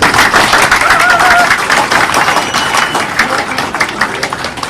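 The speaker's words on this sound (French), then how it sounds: "Applaudissez-vous s'il vous plaît." An audience at a pan-African gathering of Haitian youth breaks into applause, loud rapid clapping with crowd murmur that holds steady, then gradually thins toward the end.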